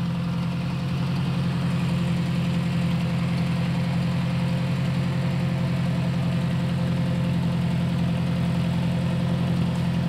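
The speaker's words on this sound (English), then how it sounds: "I just can't get over that tractor. I mean, 1957, and listen to it." A 1957 tractor engine runs at a steady idle, a loud, even low rumble with a constant throb that carries on unbroken throughout, no voices over it.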